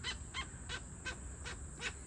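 A female king parrot calls in a series of six evenly spaced harsh, squawking notes at a moderate distance, fairly faint over light background noise.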